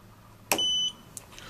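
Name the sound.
electronic beep of tester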